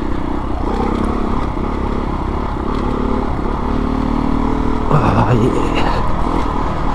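Beta 390RR dirt bike on TUbliss tube system and Michelin Enduro Medium tyres riding a rough, unmaintained lane, steady engine drone with rattles and clatter over bumps, close and loud, with a brief exclamation from the rider.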